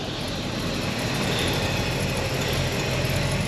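A 1964 Chevy Impala engine runs cold at idle right after starting, a rough steady rumble with mechanical clatter, close up and slowly building in loudness.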